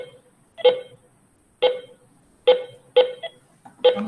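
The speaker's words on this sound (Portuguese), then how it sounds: "A gente vai regular também o alarme de respiração de Wolfson, que está chamando aqui o tempo todo, tá vendo?" A patient monitor's respiration alarm sounds in short electronic beep bursts, about five in four seconds at slightly uneven spacing, clear and fairly close against near silence.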